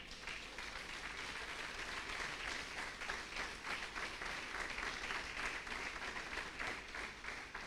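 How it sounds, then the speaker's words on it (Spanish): A church congregation breaks into sustained applause, a dense, even wash of many hands clapping together at a moderate distance, holding steady throughout without any voices standing out. "denle un aplauso al Señor"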